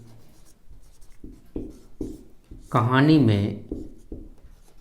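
Handwriting on a board or page during a Hindi grammar lesson: a run of short, evenly spaced scratchy strokes, then a voice speaks briefly over the writing.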